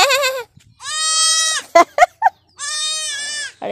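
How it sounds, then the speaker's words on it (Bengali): Spotted goats in a rural Bengal village farmyard bleat loudly and close, three long wavering calls with short grunting bleats between them, no talk over them. "এখানে আবার ছাগলগুলো দেখো"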